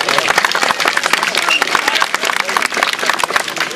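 Crowd at an outdoor traditional freestyle wrestling event claps vigorously, a dense, continuous burst of applause with a voice faintly mixed in.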